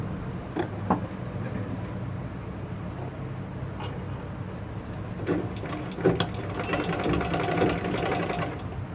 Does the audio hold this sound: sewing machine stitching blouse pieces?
yes